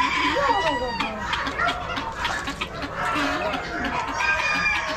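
At a poultry auction a rooster crows repeatedly, with hens clucking nearby and people talking in the background.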